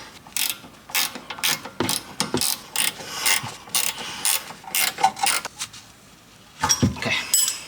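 Wrench ratcheting as new rear brake bolts from a Brembo kit are tightened on a 2021 VW T-Cross, a run of quick metallic clicks in short bursts, close and clear with brief pauses between strokes.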